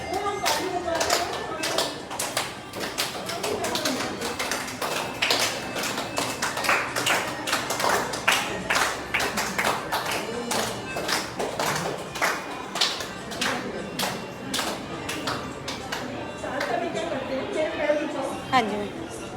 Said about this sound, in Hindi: ताली बजाना भी बहुत अच्छी है, सही है।